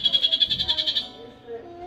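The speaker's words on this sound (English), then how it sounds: "that's the sound of that bird." A recorded bird call plays from a museum exhibit speaker, a rapid series of shrill trilled pulses that rings for about a second and then stops, with a faint murmur of a visitor's voice in the room.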